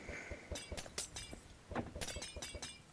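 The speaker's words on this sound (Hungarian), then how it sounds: "kiütöttem az üveget" Glass blocks shattering in the video game Minecraft on the FunCraft server, a series of sharp crashing breaks and tinkling clinks in quick uneven succession, loud and close with no talk over them.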